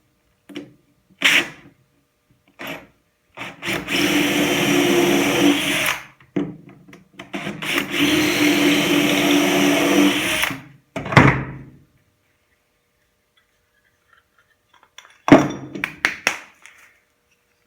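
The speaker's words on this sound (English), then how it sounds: "I center this up with the board and just run this drill bit." A drill spins a bit through a cabinet board inside a pocket-hole jig during a bus-to-RV conversion, with two sustained whirring runs of a few seconds each, separated by short taps and clunks, loud and close with no talking.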